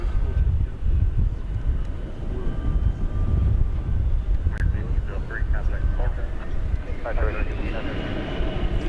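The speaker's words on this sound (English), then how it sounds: "This should be an A350 1000." An Airbus A350-1000 airliner rolls for takeoff on a DFW airport runway, a broad distant jet roar with a rising whine building toward the end, heard over steady background noise.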